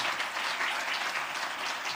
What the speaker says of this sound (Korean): 우리 박수로 한번 환영할까요?